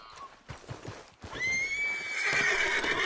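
Horse whinny from Red Dead Redemption 2 rising loud and high, preceded by a few clip-clopping hoofbeats and followed by a sustained, close neigh that fills the last half.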